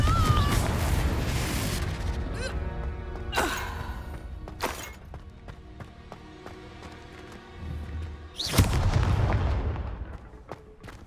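Confringo fire-spell blasts in Hogwarts Legacy, several booming explosions with sharp cracks over ongoing game ambience, the loudest burst near the end rolling into a rumbling tail.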